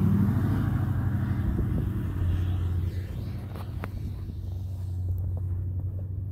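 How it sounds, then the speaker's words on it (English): A Ford diesel truck plows through deep snow with a steady low engine rumble and drone, heavy wind buffeting across the microphone throughout. "diesel plowing right through the snow"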